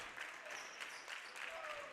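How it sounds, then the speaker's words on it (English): Basketball crowd claps in the stands at a West Virginia high school game, a steady patter of applause heard at moderate distance under a commentator talking. "We've got some clapping from the stands, rooting on the defense."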